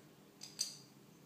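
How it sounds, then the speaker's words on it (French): Olives, sold as pitted but turning out to still hold their pits, cut for savoury madeleines, giving two short crisp snips close by over a quiet kitchen background. "je prends mes olives, je coupe"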